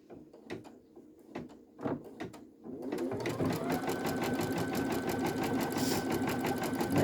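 An embroidery machine stitches knit fabric for a baby bodysuit. A few clicks and knocks are followed by a steady, rapid mechanical chatter of stitching that continues to the end.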